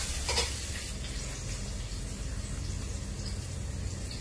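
Eggplant and okra fry in a pan for Kapampangan binagoongan (begukan), giving a steady, loud, close sizzle with stirring throughout and no talking.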